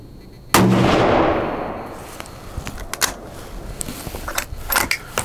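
A single loud rifle shot from a Ruger American Ranch in 5.56 firing a 27 grain load, a sharp crack followed by a long decaying outdoor echo and faint scattered clicks and rustles afterward.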